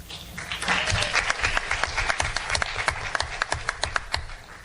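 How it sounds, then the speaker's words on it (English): A close, dense burst of audience clapping greets an FFA Advisor of the Year award recipient, with many overlapping hand claps sustained for several seconds. "round of applause for him"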